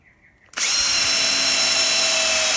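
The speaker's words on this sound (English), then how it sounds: "we're tightening this 1x2 down to this plywood" A power drill drives a screw through a 1x2 into plywood during a cornhole board build, starting abruptly after a faint hum and then whirring loud and steady, close up, with no talk.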